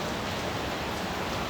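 Heavy rain pours down steadily during outdoor village cooking of a country chicken over a wood-fired clay stove, a dense, even hiss with no voices.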